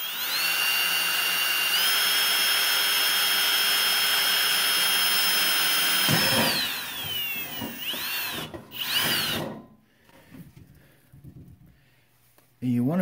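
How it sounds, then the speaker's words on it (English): An electric drill bores a hole through the center of a metal cookie sheet, a loud steady whine for about six seconds that winds down and stops, followed by brief handling clatter and quiet. "I'm just going to take my cookie sheet and I want to drill a hole in the center"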